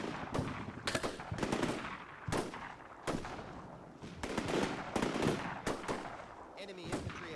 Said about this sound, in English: we are under fire